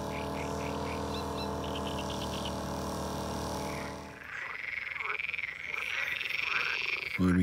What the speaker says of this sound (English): It's dark and the frogs are out.